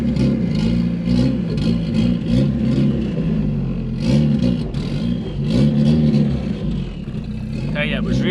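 A turbocharged Volvo 940 with a replacement engine drones steadily while driving, its revs rising and falling with a slightly spluttery, uneven note heard from inside the car.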